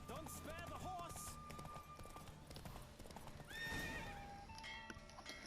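Roach galloping hard in a Witcher 3 horse race, rapid hoof clip-clop with loud neighs and whinnies, set over game music with a voice calling out.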